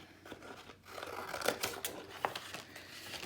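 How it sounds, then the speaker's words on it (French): Scissors snipping a rose image out of craft paper for a Stamperia album cover, giving a run of quiet close cuts with faint paper rustle and no talk. "Donc je vais tout simplement venir couper l'image"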